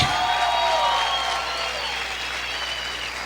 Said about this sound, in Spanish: Vamos a aplaudir fuerte al Rey.